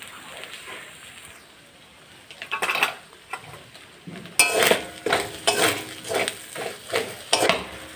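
Fish frying in hot oil in a home kitchen, just before the gas is turned off, bubbling and spluttering with a run of sharp crackling bursts that grow louder and more regular toward the end, with no talk.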